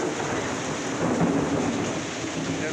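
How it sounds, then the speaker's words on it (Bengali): Heavy rain pours steadily with low rumbles of thunder near a police lines headquarters in Kishoreganj, a dense continuous roar throughout. "হঠাৎ করে এত বৃষ্টি"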